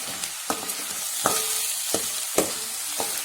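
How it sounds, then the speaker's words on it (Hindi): Onions sauté in hot oil, giving a steady hiss of frying with sharp clicks and scrapes of a spoon stirring the pan every half second or so. No voices are heard. "तेल गरम कर लिया और प्याज डाली है और प्याज डालकर इसको अच्छे से सटे कर रही हूँ"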